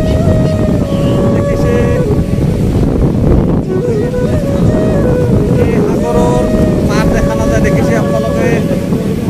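Strong wind buffets the microphone on the Bay of Bengal sea shore, a loud continuous roar with surf-like wash beneath, while a person talks over it.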